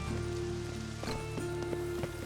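Steady rain falls in The Witcher 3 video game as an even, continuous hiss, with faint tonal game sounds and a few soft thuds underneath and no talking.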